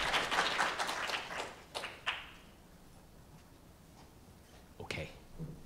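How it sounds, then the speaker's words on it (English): Audience at a comics convention panel claps for the technical crew, a brisk burst of applause that thins out after about two seconds into near quiet, followed by a brief thump later. "Again, a big round of applause for the people who do all the tech around here."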